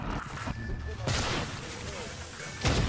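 Explosions and gunfire in the video game Prey on nightmare difficulty come as loud, sudden blasts, one near the middle and another near the end, over continuous game noise, with someone talking throughout.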